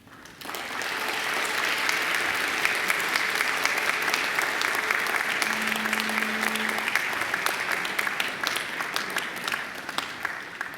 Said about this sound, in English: now I invite you to give them a mighty round of applause